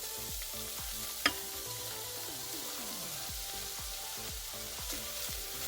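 Onions sautéing in melted fat in an Instant Pot, a soft steady sizzle with a faint tap near the start.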